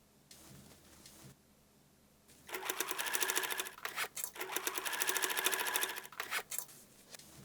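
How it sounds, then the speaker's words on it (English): A sewing machine stitches parallel lines for a drawstring casing on a backpack made from old umbrella fabric; after a quiet start it runs in two steady, close bursts with a brief pause between them. "sew parallel lines for the drawstring casing"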